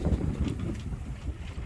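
A sailboat under way in wind off the coast, with steady low wind buffeting the microphone and soft water and hull noise, faint and continuous.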